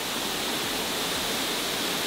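A waterfall in the Ukrainian Carpathians roars as a loud, steady, close rush of falling water with no other sound.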